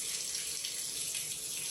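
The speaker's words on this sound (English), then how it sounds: "We got water coming out there." A bathtub spout fitted with a diverter runs water in a steady, close hiss and splash, with a continuous even flow and no voices.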